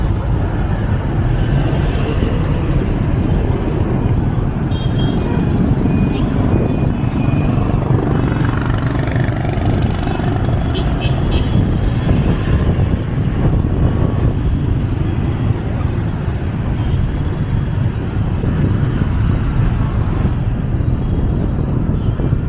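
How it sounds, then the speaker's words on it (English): A motorbike taxi's engine hums and rumbles in heavy Ho Chi Minh City traffic, steady and close with strong wind buffeting over it. Other vehicle noise surrounds it and a few faint horn-like tones come through, with no talk. "Traffic jam."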